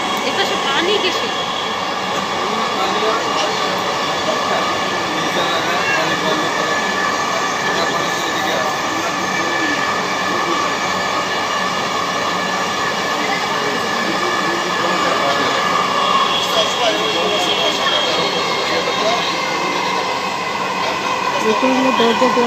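A Dhaka metro rail train runs at speed, heard from inside by the doors: a loud, steady rumble and whine lasting throughout, with voices murmuring underneath.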